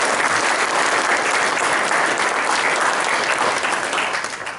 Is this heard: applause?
yes